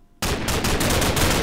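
Loud, rapid gunfire from a modded Minecraft game breaks out abruptly after a brief quiet start, then continues as a dense stream of shots with quick repeating bursts.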